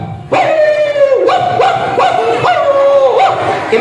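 A man imitates a young puppy with his voice, giving a run of high, whining yips and whimpers in quick succession, close and loud, with no other sound behind them.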